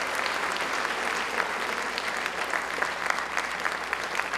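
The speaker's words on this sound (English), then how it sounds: "So a nice round of applause for Sam, and we wish him well." Audience applause at a Middleborough High School Flag Day ceremony, a steady, dense wash of many hands clapping in a large space, even and sustained throughout.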